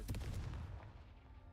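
A Confringo fire spell blasts in Hogwarts Legacy, a quiet, short burst of crackling impacts that fades quickly into low rumble.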